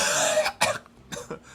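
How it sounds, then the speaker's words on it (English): A sharp, close cough, then two shorter coughs a moment later, with no talking around them. "That was a real cough."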